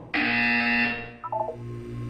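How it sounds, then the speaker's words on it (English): A harsh, loud electronic buzzer from the video game Portal 2 sounds for about a second, then cuts off into a few short fading tones over a low steady hum. "You will hear a buzzer. When you hear the buzzer, look up at the ceiling."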